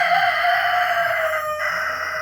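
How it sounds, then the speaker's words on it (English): A rooster on a farm crows once in a single sustained, loud and close call with no talk. "I guess that was applause from the rooster."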